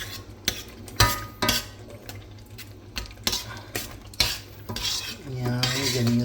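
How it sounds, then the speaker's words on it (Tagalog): Sliced hotdogs go into a pan and are stirred, with repeated metal utensil scrapes and clinks against the pan, a faint sizzle underneath, and a louder burst of frying near the end. "lagay po muna natin itong mga pinag-iwa-iwang hotdog"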